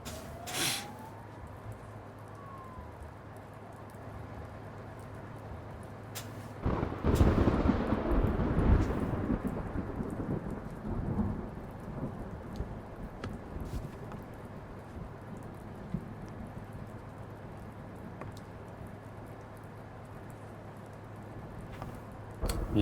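Steady rain hiss in the video game Blacksad throughout, broken by one deep rolling thunderclap midway that rumbles loudly before fading back into the rainfall.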